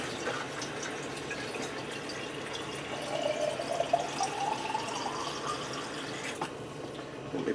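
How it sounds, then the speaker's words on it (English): Water poured from a jar into a Ninja Foodi pot while making a chicken Parmesan bake, a steady close pour that swells slightly midway and runs for several seconds with no talking. "I'm going to put a whole jar of water in."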